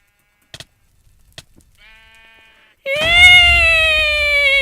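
Sheep bleating in the Minecraft-style game EPICUBE, a few faint clicks and a thin tone first, then a loud, long, wavering bleat up close that fills the end.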